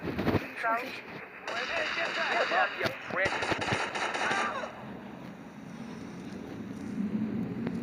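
Gunfire in the video game GTA Vice City, rapid automatic shots rattling through the first half amid game noise, with someone talking over it.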